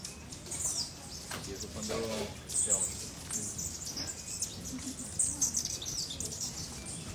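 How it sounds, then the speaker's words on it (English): An acorn woodpecker calls from a tree in Colombia, giving repeated sharp, high chirps at moderate distance over steady background noise, with faint voices nearby. "Acorn woodpecker on the tree."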